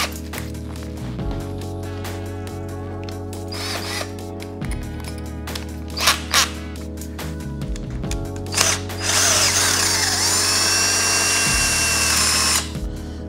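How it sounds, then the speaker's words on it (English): A power drill with an 8mm bit runs in several bursts, whirring and shifting pitch as it bores a hole in a Jeep Wrangler rear window MOLLE panel, with a louder grinding stretch near the end. "we're gonna switch it to the 8mm drill bit."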